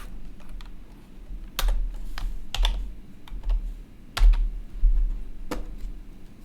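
Code is typed on a computer keyboard in a script editor, with irregular bursts of close, crisp key clicks and a few louder keystrokes standing out over quiet room noise.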